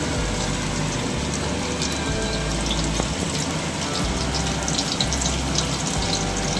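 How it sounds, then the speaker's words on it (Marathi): Green chillies and crushed garlic fry in hot oil in a wok-style pan, giving a loud, dense, continuous crackling sizzle close up with a low rumbling hum beneath it and no talking. "त्यामध्ये आपण मिरच्या टाकून घेतोय."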